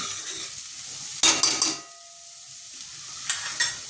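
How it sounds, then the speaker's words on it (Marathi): Chopped onion and green chilli sautéing in butter and oil for pav bhaji, a faint steady sizzle broken by two bursts of spatula stirring and scraping against the pan, close and without speech. "इथे छान कांदा गुलाबी रंगावर परतून घ्यायचा आहे"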